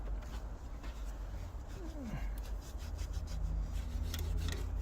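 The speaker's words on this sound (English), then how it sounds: "we're gonna sand it down." A sanding block scrubs steadily with rough, continuous rasping against the cylinder head surface of a Toyota Previa/Tarago/Estima engine. Faint workshop noise sits underneath.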